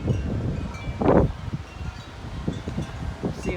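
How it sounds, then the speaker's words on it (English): Wind blows outdoors on a very windy day before a storm, a rough, buffeting rush against the microphone, with leaves rustling and one stronger gust surging briefly. "I see a wind gust coming."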